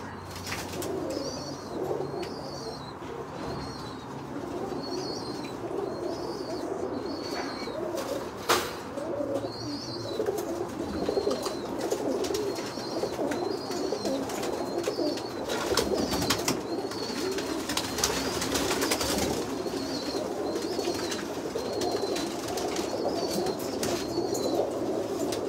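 Spinner pigeons in a loft coo in repeated soft rhythmic calls while sharp bursts of wing flapping break through now and then, nearby and without any talk.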